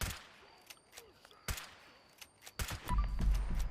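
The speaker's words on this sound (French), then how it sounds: "Maintenant, testons le fusil à levier." Lever-action rifle shots in the video game Fallout 76 crack out as a few sharp, separate reports spaced out with quiet gaps between them, followed by a louder rumbling burst at the end.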